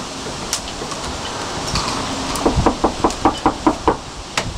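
Knuckles rap on the front door of an old stagecoach inn house, a quick run of about ten sharp knocks up close over faint background hiss.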